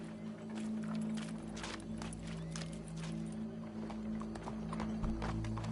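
Horse hooves clip-clop steadily in a game scene, with a low droning hum and music-like tones running beneath the footfalls.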